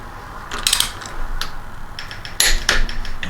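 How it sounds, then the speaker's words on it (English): Torque wrench clicking as ARP head studs are tightened on aluminum heads of a 1967 Ford Mustang 289, several sharp metallic clicks and ratchet ticks close up in a quiet garage. "I'm gonna torque these till they click."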